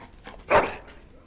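A single dog bark from the Dragon Age: Origins video game, one short mid-loud yelp standing out briefly over a quiet game background.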